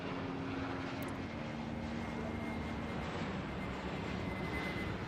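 An airliner in Airport Madness World Edition rolls for takeoff with a steady, droning engine roar at an even, moderate level, carrying on without change and with no talk over it.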